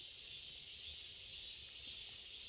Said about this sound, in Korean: 매미 소리는 저랑하게 우네요